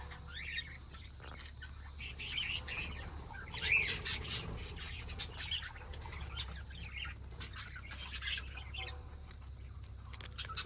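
Small round birds on the floor of an aviary chirp and tweet in quick, high bursts, several calls overlapping over a steady background hum.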